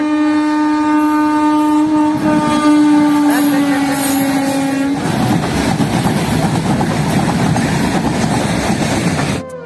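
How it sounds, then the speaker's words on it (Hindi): A train passes close by in a village setting. A long, steady horn blast comes first, then the loud rumble and clatter of the cars rolling past takes over until the end. "देखो ट्रेन आ रहा है, आ रही है।"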